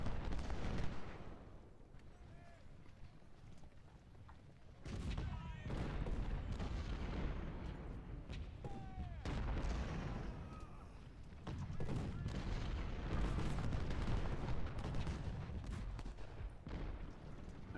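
Cannon and rifle fire across a Civil War battlefield at Malvern Hill in a strategy game, distant booms and crackling volleys rolling on continuously under scattered battle noise.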